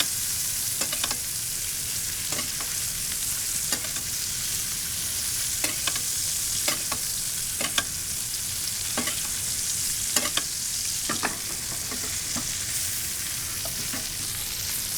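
Steaks searing in a pan with garlic butter make a loud, steady sizzle throughout, broken by sharp, irregular spatter pops and the scrape of stirring or basting, with no voices.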